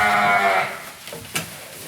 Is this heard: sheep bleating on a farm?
yes